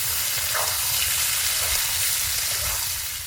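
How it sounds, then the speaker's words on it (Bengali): Steamed potato and taro pieces fry in oil during outdoor village cooking on a riverbank, with a steady, dense sizzle and hiss heard close up and no speech. "আলু কচু করে ভেজে নেব"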